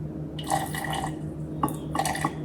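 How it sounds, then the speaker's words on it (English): Liquid poured in a thin stream into a pot of broccoli soup, two short splashing bursts with dripping, fairly close and moderately loud, no talking. "I'm going to add just a tad bit more liquid."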